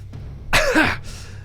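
A man imitates a harsh coughing fit with his voice, a single loud burst of throaty hacking after a brief faint breath, close and alone.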